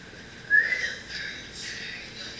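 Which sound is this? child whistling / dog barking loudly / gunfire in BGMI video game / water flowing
child whistling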